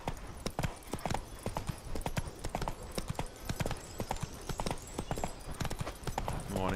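Roach the horse gallops in The Witcher 3, hooves clopping in a quick steady rhythm throughout, close and clear with no voices over it.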